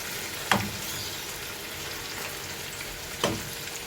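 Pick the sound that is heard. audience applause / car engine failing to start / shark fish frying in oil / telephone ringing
shark fish frying in oil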